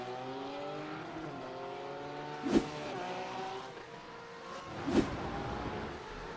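A BMW GT3 race car at the Algarve circuit accelerating hard out of a corner after its rear end steps out, engine notes climbing in repeated gear-by-gear sweeps with two sharp shift bursts, loud and fairly close.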